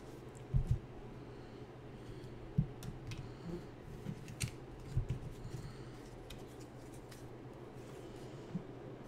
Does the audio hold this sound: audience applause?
no